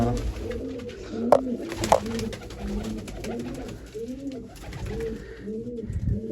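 Pigeons cooing close by in a loft, repeated soft rhythmic coos overlapping throughout with a couple of brief sharp knocks early on.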